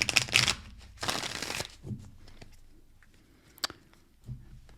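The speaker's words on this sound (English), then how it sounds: "Some folks need more shuffles than others" Tarot cards are shuffled in short riffled bursts close by, with quiet pauses and a few soft taps and rustles between them.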